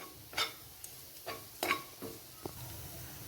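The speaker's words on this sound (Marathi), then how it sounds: "हे मसाले आपण तेल सुटेपर्यंत छान असे परतून घेऊया" Spice masala being sautéed in oil for a sandge rassa bhaji, a handful of separate spoon scrapes and taps against the pan over a faint low sizzle, quiet and close.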